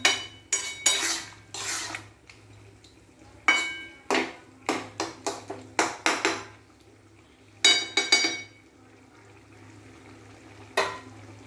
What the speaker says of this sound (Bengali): এই দেখুন, ভালো করে এবার নাড়তে থাকবো।